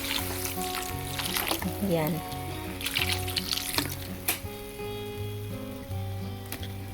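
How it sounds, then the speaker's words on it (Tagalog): A little water poured into a pan of tomatoes, splashing and hissing briefly before the steady sizzle settles, with a few spoken words over it. "Ngayon naman po ay maglalagay po ako ng konting tubig."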